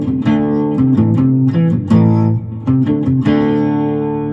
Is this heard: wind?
no